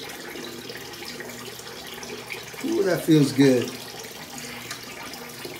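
Cold tap water runs in a steady wash while a head is rinsed during a head shave; a person briefly exclaims partway through.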